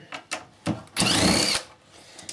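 Cordless lithium power drill undoing Torx screws in a workshop: a few short whirring bursts followed by one longer, loud, close-up run of the motor, with no talking.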